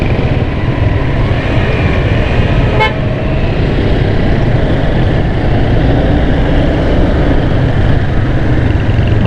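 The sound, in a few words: car horns honking in a traffic jam in Karachi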